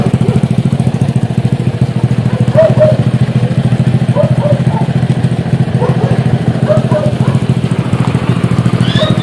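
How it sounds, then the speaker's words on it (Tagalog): A motorcycle engine runs steadily nearby with a constant low rumble and faint clatter throughout, while someone talks over it. "Pag ako nag-andar ang motor."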